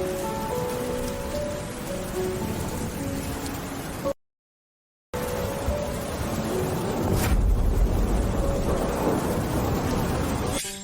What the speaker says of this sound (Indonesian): Hujan! Kita selamat!